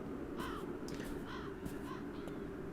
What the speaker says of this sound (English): There's a bird that's chirping.